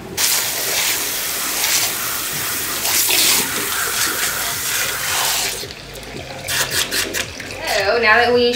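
Running water rinses hair dye from hair at a salon sink, a steady broadband spray that continues throughout, with brief voices and handling sounds near the end.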